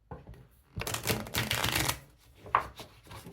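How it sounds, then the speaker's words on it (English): Tarot cards are riffled and shuffled in a quick, papery burst, followed by a soft tap as the deck settles, in a quiet room. "let's do some shuffling here."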